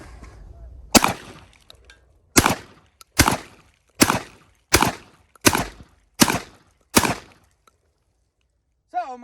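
Mossberg 940 Pro semi-automatic shotgun fired eight times at clay targets outdoors, loud sharp blasts spaced about a second apart, each with a short decaying tail, standing alone without talk.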